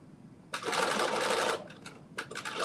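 A sewing machine puts in a stay stitch on a garment in one loud, close one-second run, followed by a couple of shorter bursts and taps.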